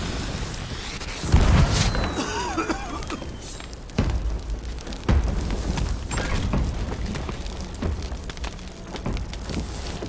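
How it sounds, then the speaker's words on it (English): Video game fireworks burst and boom in a few scattered bangs, one heavy thump early and sharper pops after, over a constant rumbling game ambience. "Fireworks."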